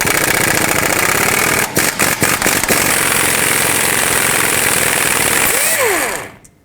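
An impact wrench with a 21mm socket loosens a nut on a Ford F-250 front hub, making a loud, continuous close-up hammering rattle with a few sharp clacks midway, then spinning down and stopping at the end.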